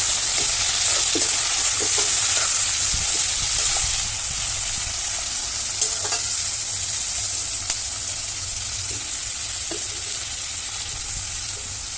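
Onion fries in hot oil with a loud, steady sizzle and hiss, with occasional stirring clicks throughout.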